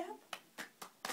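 Hands clapping as applause for a little girl playing with Lego: four distinct close claps in a loose rhythm, following a brief snatch of a voice.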